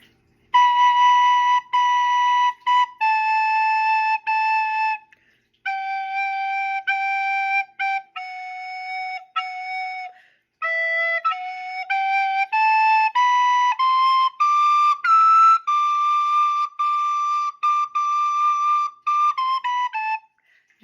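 A bright, breathy soprano recorder plays the introduction to Ode to Joy, a steady melody of sustained notes, clear and close, with short breaks between phrases and no voices.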